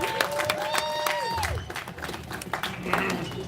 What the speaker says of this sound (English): If we can all give John another round of applause